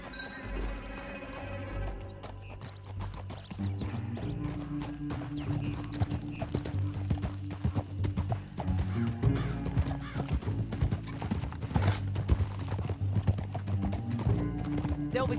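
Galloping horse hooves from Red Dead Redemption 2 clip-clop steadily in a fast rhythm, blended with a game music score and an occasional whinny, continuous throughout at moderate level.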